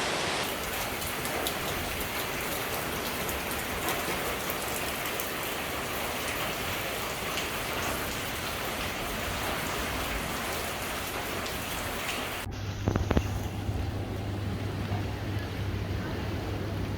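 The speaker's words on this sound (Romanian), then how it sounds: "Ploaia a durat cam o oră" Steady rain pours on Gili Air, Lombok, a dense continuous hiss filling the scene until it cuts abruptly, leaving a quieter backdrop with a brief knock and a low hum.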